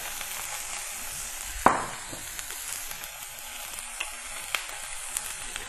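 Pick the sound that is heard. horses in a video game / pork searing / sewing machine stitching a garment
pork searing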